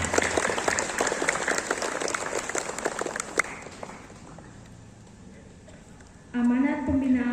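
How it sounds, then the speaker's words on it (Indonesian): Crowd applause from a gathered student assembly at a school event, dense and sustained for several seconds before fading out, followed by a loud voice over a public address system. "tepuk tangan semua biar semangat"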